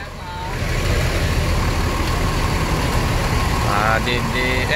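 Rosalia Indah bus engine idling during a morning check after washing, a steady low rumble throughout with voices talking over it and brief higher tonal sounds near the end.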